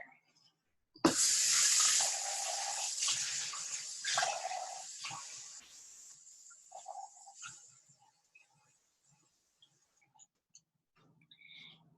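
Water gushes from a tap into a cup for several seconds, its pitch shifting as the cup fills, then stops, followed by a few faint clinks.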